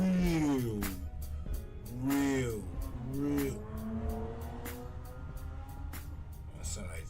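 A human voice imitates a motorcycle engine, giving rising and falling revving whines in a few repeated bursts, close and fairly loud over a background of steady road noise.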